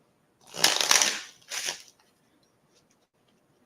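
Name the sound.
shuffling cards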